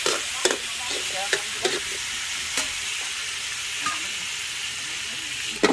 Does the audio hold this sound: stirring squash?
yes